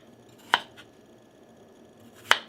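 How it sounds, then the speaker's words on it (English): Potatoes being cut into pieces on a board, heard as two sharp, close knife chops set well apart against a quiet background. "is just cut them into nice sized pieces"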